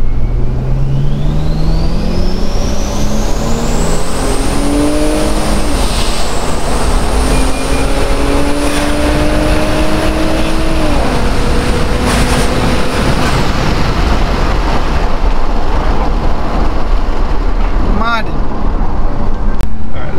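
A turbocharged Toyota Mark X 350 accelerates hard in high gear, with a rising turbo whine climbing steadily over a loud, sustained engine roar heard from inside the car, alongside occasional voices.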